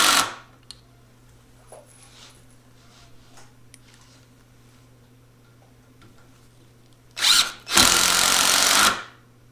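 Quiet room with faint ticks and clicks, then two short loud bursts of an impact driver whirring near the end.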